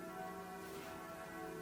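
Church bells ring in a steady, sustained peal, their resonant tones overlapping continuously at a fairly low, distant level with no voices.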